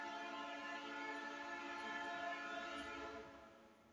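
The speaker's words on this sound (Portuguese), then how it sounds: "Barulho do trem." A train passes near a house on a drizzly, muggy day, its horn sounding a steady, sustained multi-tone blare that holds for several seconds before beginning to fade.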